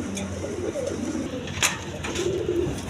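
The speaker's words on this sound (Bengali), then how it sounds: "এক পেয়ার বাচ্চা সহ দুইটা কবুতর আছে" A pair of colored pigeons with a pair of chicks coo in low, rolling phrases at close range, a brief sharper rustle cutting in midway, with no voices over the steady murmur.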